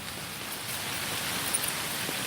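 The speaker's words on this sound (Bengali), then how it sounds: "সকালবেলা অন্ধকার হয়ে মেঘ বৃষ্টি চলে এসেছে বৃষ্টির মধ্যে হাঁটছি" Heavy rain falls in a village on a dark morning, a dense, even hiss of drops that stays steady and fairly loud with no voices.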